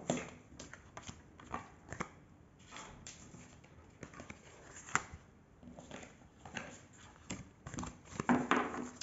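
Oracle cards shuffled by hand during a tarot-style reading, a quiet, close run of rapid papery riffles and soft slaps in uneven bursts, with no talking.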